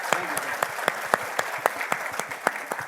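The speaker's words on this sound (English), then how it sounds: "can I invite all of you to give applause to all of the panel members" Audience at a construction conference applauds its panel members, with a thin group of claps and a few loud individual hands clapping in a steady, regular beat close by.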